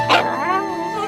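A small pet dog named Gino gives one short, close yip or bark, then a thin whimpering whine that drifts on. No one speaks over it.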